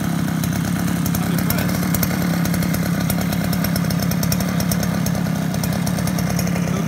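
A small 49cc two-stroke scooter engine idles steadily and loudly, warming up, with a buzzy, rattling drone that never lets up.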